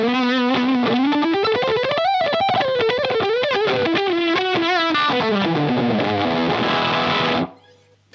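Electric guitar driven through a Boss SD-1 overdrive and DS-1 distortion stacked together, a loud, saturated sustained lead line bending up and down for about seven seconds before cutting off abruptly into near silence.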